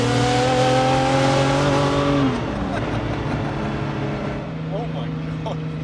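Ferrari F50 with a Capristo exhaust, valve open, revving loudly up close: a sustained high-pitched engine howl that drops off after about two seconds into a rougher idle with crackles.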